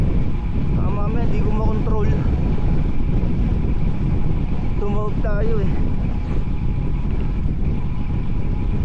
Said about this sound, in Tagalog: Kasi umahampas yung hangin.